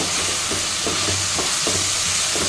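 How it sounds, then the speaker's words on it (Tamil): Sambar powder and pumpkin pieces sautéing in a pan for idli sambar, a steady loud sizzle with faint rhythmic stirring scrapes about every half second, close up and with no voices. "அதையும் சேர்த்து நல்லா வதக்கி விடுங்க."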